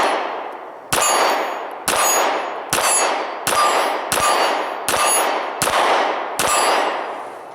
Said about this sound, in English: We're going to shoot the M&P Shield at the steel target out there and see if we can get hits.